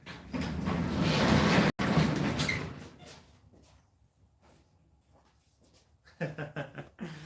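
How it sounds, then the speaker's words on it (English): A metal door slides open with a loud, sustained scraping rush that cuts off sharply, followed by quieter mechanical clicks and a brief rattling clatter at the end. "Let me open the door."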